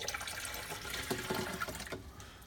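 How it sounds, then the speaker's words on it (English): Water is poured by hand from a French press into the tank of a Jura Impressa F50 coffee machine, a steady close splashing and trickling that runs throughout with no talk. "And we add water right here."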